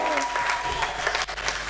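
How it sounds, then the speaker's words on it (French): Church congregation applauding the girls during a sermon: steady, dense clapping from many hands, close and lively, with a voice faintly mixed in. "Acclamez les filles."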